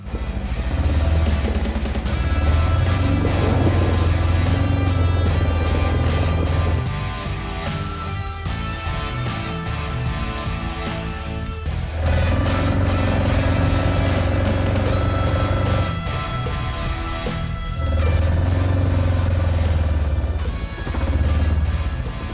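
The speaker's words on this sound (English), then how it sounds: "we will take it just down the driveway and see how well she stops" Vintage barn-find classic car rolling slowly down a driveway, its engine running steadily with a low rumbling drone that swells and eases in several long passes, close and fairly loud with no talk.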